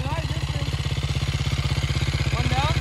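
The old quad ATV's engine thumps with a fast, even, pulsing idle close by, revving slightly higher toward the end, while a person talks over it.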